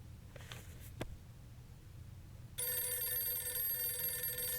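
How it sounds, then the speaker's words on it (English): An old-style telephone bell starts ringing abruptly partway through in the 60 Seconds Reatomized video game, a continuous bright metallic trill after a quiet stretch with a faint thump. "Why is the phone ringing?"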